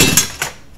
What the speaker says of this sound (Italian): questo è il rumore di ferraglia.